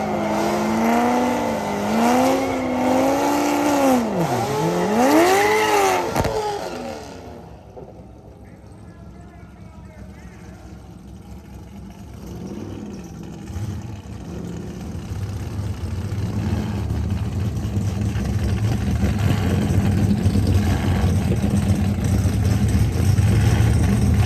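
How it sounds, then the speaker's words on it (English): A Corvette C6 at a drag strip during dig racing, a loud engine revving with sweeping pitch that drops to a calmer drone and then builds again, heard up close with a voice talking over the start. "And I'm gonna go and dig race the C6."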